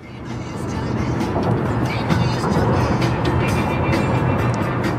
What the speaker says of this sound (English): Driving down the freeway